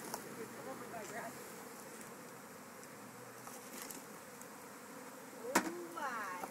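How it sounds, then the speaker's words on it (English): A swarm of bees buzzes outdoors near grass, a dense continuous drone with individual bees passing close by, including a loud near pass toward the end. "There's some mad bees there"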